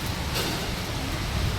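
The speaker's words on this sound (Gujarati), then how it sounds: "આજ તો સવારથી વરસાદ ચાલુ." Heavy rain pours in a steady, dense hiss with some wind, an even wash of noise that holds unchanged throughout with no voices.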